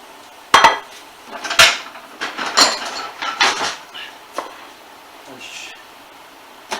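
Dishes clatter and knock together as one is fetched from a cupboard: a close, loud run of irregular clinks and thuds lasting a few seconds before quieting.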